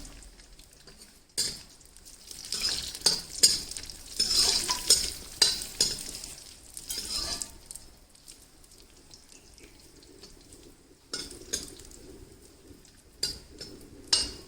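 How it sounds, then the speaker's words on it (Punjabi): Raisins lightly roasting in desi ghee for panjiri, a quiet intermittent sizzle broken by bursts of stirring and scraping in the pan, close up, with quieter stretches between. "ਆਪਾਂ ਦਾਖਾਂ ਹਲਕਾ ਜਿਹਾ ਰੋਸਟ ਜਿਹਾ ਕਰ ਲਾਂਗੇ ਜ਼ਿਆਦਾ ਨਹੀਂ"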